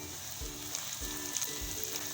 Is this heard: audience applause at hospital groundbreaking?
no